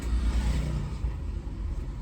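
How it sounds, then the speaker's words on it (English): Road traffic heading into Nairobi, Kenya, a steady low rumble of passing cars and engines close by. "There's a lot of traffic going into Nairobi."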